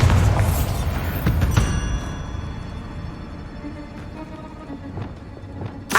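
A Bombarda explosion spell goes off in Hogwarts Legacy with a heavy, loud boom and debris crackle at the start. Scattered thuds, clatters and a sharp hit close out the stretch, with the rumble fading in between.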